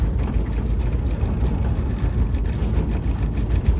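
A PVC motorboat's outboard engine runs on open water, a steady, loud low drone that stays even throughout with no voices over it.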